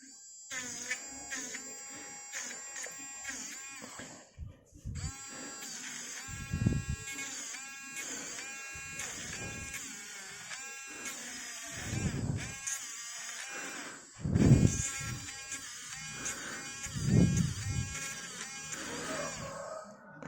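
A small handheld electric eraser whirs in short, thin buzzing bursts, pressed lightly and then harder, with a voice talking over it at times.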